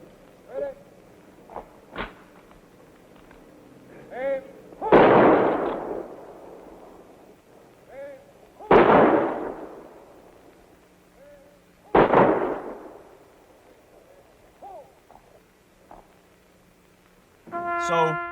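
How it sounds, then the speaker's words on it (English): A 21-gun salute at Arlington National Cemetery: three loud rifle volleys about four seconds apart, each with a long, echoing outdoor decay, plus fainter sounds in between. "21 guns at Arlington National Cemetery"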